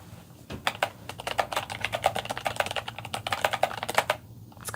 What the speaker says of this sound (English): I'm just making letters appear as I push my keys down all the way.